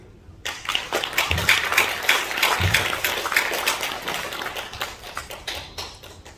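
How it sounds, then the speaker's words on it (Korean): Audience applause greeting a speaker at a Korean political-Christian forum event: dense, steady clapping from a crowd that swells quickly and holds fairly loud throughout, with a few heavier thumps mixed in. "큰 박수로 환영해 주시기 바랍니다."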